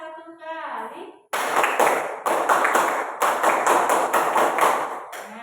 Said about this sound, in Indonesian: Coba kita dengan bersama-sama mencoba tepuk pramuka.